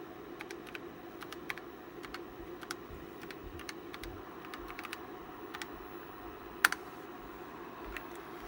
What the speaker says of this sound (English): I'm going to type the file name to play.